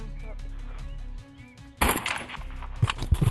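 Sniper gunfire rings out in the video game Animal Rivals duels: a sudden loud blast cuts through the game's steady background tones, followed by a few sharper bursts.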